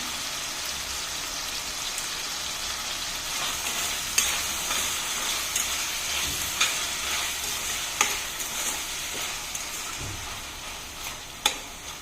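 Tomato curry sits in a pan with a soft, continuous sizzle while a spoon gives a few sharp scrapes and taps now and then. The sound is fairly quiet and close.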